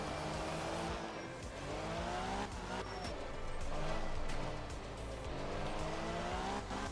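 Rally car driven around a practice playground area among cones in the Art of Rally video game, its engine revving and tires squealing and skidding through continuous close, loud driving.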